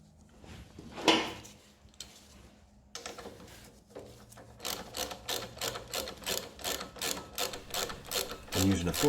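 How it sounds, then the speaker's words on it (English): Socket ratchet with a 14mm socket tightening a motorcycle brake caliper bolt on a Zontes 125, a quick series of close clicking ratchet strokes after some handling noises. "using a 14mm socket, nip it up"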